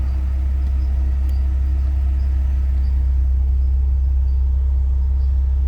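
A 1994/95 Fiat Tempra 2.0 8v idles with the air conditioning running, giving a steady, deep engine rumble close by with no talk over it.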